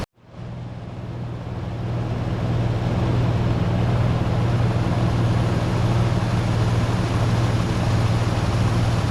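A 1988 Toyota FJ62 Land Cruiser engine with about 290K miles, idling during ignition timing adjustment: it cranks and catches, then settles into a steady, even low rumble heard up close with no talk.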